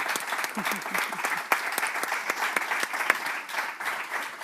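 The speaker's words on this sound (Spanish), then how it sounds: "Un aplauso para Carlos." A panel audience applauds a speaker at a summit, with brisk, moderately loud clapping that carries steadily through the whole stretch.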